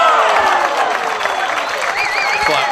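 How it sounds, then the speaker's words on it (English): A tennis crowd at a Landisville tournament applauds and cheers steadily after a point. A commentator talks over the noise. "Listen to the crowd"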